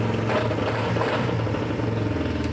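A Chinese Bell 125 motorcycle engine runs close by, a loud, steady, throbbing mid-pitched rumble with a rapid pulsing rhythm that continues without a break.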